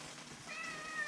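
A cat gives one short, faint, thin meow indoors, rising slightly, over a soft background hiss.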